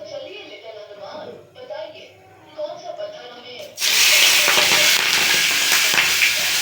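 Large prawns dropped into hot smoking oil, a sudden loud spitting sizzle that bursts in partway and stays strong, after a stretch of someone talking over quiet kitchen noise.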